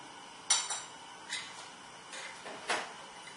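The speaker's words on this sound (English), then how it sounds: "Put on the lid and tighten it up." Metal lid being screwed onto a glass canning jar of home-canned tomatoes in a kitchen, a few light clinks and short scraping twists spaced apart, close and fairly quiet.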